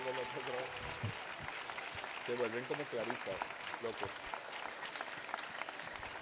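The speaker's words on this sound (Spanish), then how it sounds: "Un aplauso para los pequeños que llegaron." Audience at a school anniversary celebration claps for the little children, a continuous patter of applause running under a voice and other chatter, moderately quiet.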